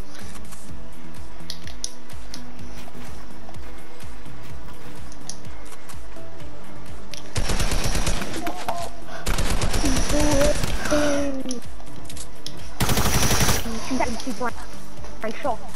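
Rapid automatic gunfire in the Fortnite video game, coming in several dense loud bursts separated by short pauses, with people talking over the gameplay.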